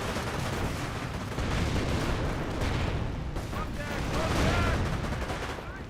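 Battle sounds in the World War II strategy game Company of Heroes as Rangers push forward and throw a frag grenade: dense, continuous rattling gunfire and dull booms crowd together, with a voice faintly heard underneath.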